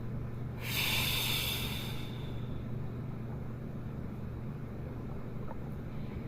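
During a breathing meditation, a single forceful exhale through the mouth makes a close, breathy rush lasting about a second and a half, then fades to quiet room tone.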